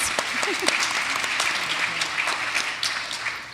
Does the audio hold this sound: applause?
yes